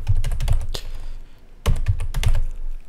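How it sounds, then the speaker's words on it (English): Keys tapped on a computer keyboard while typing a web link, two short, close bursts of crisp clicks separated by a brief lull. "you want to type it in here"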